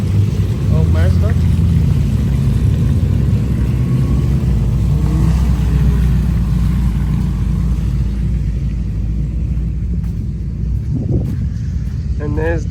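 A Mazda rally car's engine rumbles at a rally event, a loud steady low drone from close by with brief revs, while people talk over it.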